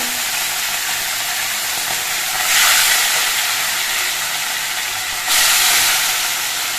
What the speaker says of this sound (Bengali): একইভাবে কিন্তু আমি বাকি চিকেনের পিসগুলো ভেজে নেব।